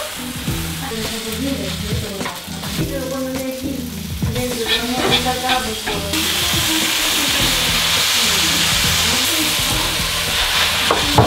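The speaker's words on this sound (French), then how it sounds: "De son côté, Nadège fait ça sur une plaque de teppanyaki et moi je le fais à la poêle" French-style okonomiyaki sizzles steadily in a frying pan, a continuous close crackle and hiss with intermittent scraping and stirring clatter over the top, growing a little brighter and louder partway through.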